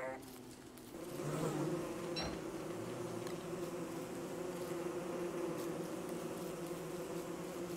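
Killer bees buzzing in Don't Starve Together, a steady droning insect hum that stays loud and even throughout, mixed with game music, with no talk.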